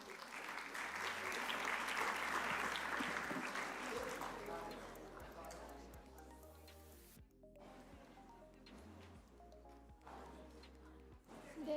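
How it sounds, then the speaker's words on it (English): Applause from a summit audience in a conference hall fills the room loudly for several seconds, then thins out and tapers, with a voice over a PA talking beneath it. "Let's show our appreciation with a big round of applause"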